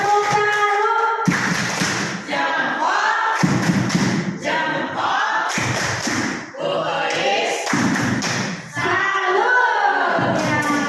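An audience at a school socialization session on positive culture performs a rhythmic clapping salute, several sharp synchronized bursts of claps repeating in a patterned sequence, with voices chanting along between the claps.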